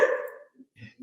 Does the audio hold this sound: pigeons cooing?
no